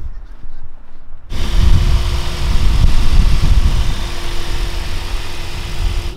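A VW Golf 8 GTI engine catches after a near-silent second, then settles into a steady, fairly loud idle with a low rumble and a constant hum.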